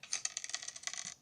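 Kid Pix money stamp sound effect from the computer software on a 2008 MacBook: a quick jingling clatter of coins lasting about a second, bright and close, with no voices.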